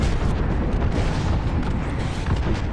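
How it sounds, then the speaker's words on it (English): Airstrike explosions in a video game, a continuous heavy rumble of blasts and booming impacts that stays loud and dense throughout. "Airstrike. Right here."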